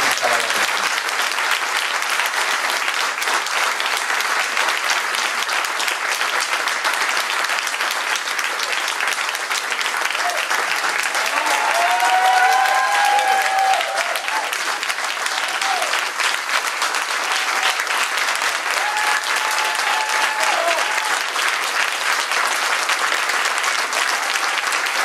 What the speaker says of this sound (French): Je pense qu'il mérite une bonne main d'applaudissements.